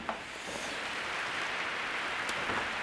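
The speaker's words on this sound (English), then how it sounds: "That's a lot of rain" Heavy rain falls steadily as a dense, even hiss close by, with occasional louder drops standing out and no voices heard.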